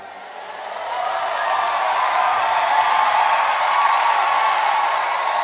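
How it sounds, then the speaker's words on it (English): Synthetic crowd noise mixed into an AI-generated Suno song, a broad wash of cheering and applause that swells after the first second and then holds steady and full. "Suno doesn't just add crowd noise"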